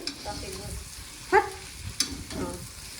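Food frying and being stirred in a pan in a home kitchen as tomato is added, a soft continuous sizzle broken by a few sharp clinks and scrapes, with a faint voice in the background.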